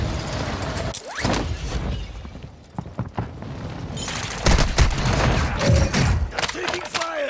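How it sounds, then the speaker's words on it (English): Dense video game gunfire crackles in rapid bursts amid mechanical clanks and thuds, loud and close, with voice lines and talk layered over the action. "Taking fire!"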